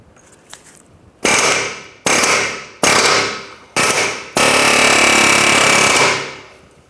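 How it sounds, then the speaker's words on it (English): Pneumatic air hammer with a blunt head driving a ball joint rivet out of a 2006-2013 Chevrolet Impala front lower control arm: five loud, close bursts of rapid hammering, four short ones then a longer sustained run. "use our air hammer to go ahead and punch these studs up and out"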